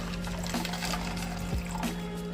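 Water pours into a drink mixer holding powdered drink mix, a steady splashing trickle close by over a low background hum, with no talk.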